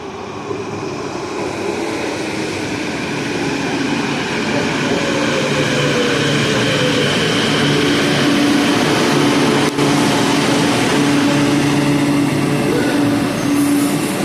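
A Vancouver SkyTrain metro train rumbles into Sea Island Centre Station and builds in loudness, with a rising mechanical whine and faint squeal as it pulls close and slows.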